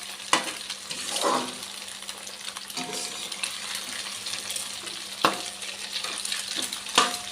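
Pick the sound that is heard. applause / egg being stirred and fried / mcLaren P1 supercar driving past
egg being stirred and fried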